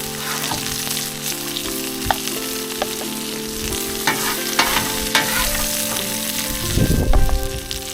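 Rib eye steak and butter sizzle loudly on a Blackstone griddle, a steady close frying hiss broken by spatula scrapes and clicks, with a louder burst of crackling near the end.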